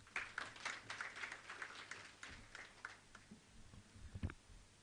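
An audience at a trade and investment forum claps after a speech. The applause is faint and scattered, a patter of hands that thins out over a few seconds.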